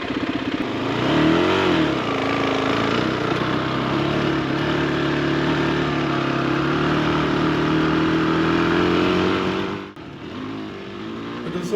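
A Kawasaki KLX450R or Honda CRF250L dirt bike engine runs loud and close, rising in a quick rev early on, then holding a steady throttle drone before briefly dipping and picking up again near the end.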